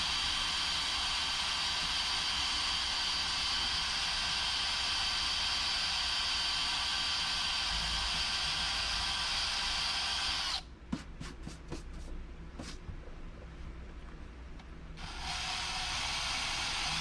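A drill runs steadily as a loud, continuous whirring hiss while working adhesive off a Porsche's painted body, then stops into a stretch of quieter scraping clicks and short bursts before whirring again near the end.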